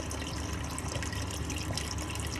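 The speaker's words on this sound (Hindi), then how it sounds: "तो पानी भी मैंने पूरा जग डाल दिया।" Water poured from a jug into a pressure cooker holding chicken, a continuous gushing, splashing flow that stays loud and close from start to finish with no talk.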